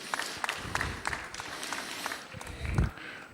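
Council members clap at a Johannesburg city council meeting, a thin, scattered round of individual claps from a small group, fairly faint, with some shuffling and low thumps toward the end.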